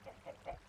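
Chickens in Minecraft give three short, evenly spaced clucks in a video game, each quick and fairly soft, over a faint background.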